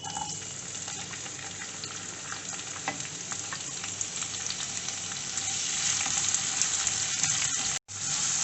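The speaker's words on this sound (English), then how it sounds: "Saute it until little golden in color." Onions sizzle steadily in hot sunflower oil in a kadai, a continuous close frying hiss with stirring scrapes that grows slightly louder toward the end and breaks off for a moment just before it stops.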